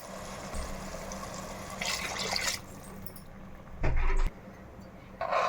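Water pours in a few short splashing bursts into a pot of rice for biryani, fairly close, with quiet pauses between pours.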